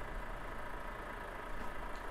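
A Volvo F series Globetrotter truck in Euro Truck Simulator 2 idles with a steady, even low rumble, continuous and unchanging throughout with no voices.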